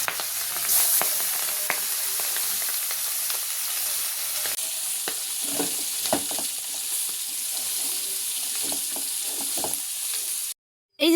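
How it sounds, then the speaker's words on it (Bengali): Fish frying in a pan in a home kitchen: a steady close sizzle with scraping and stirring knocks throughout, no voices, cutting briefly to silence near the end. "এখন চলুন মাছগুলোকে ভেজে নিই।"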